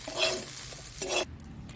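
Close, steady sizzle of food frying in a pan, with spatula scrapes and stirring breaking through, no voices.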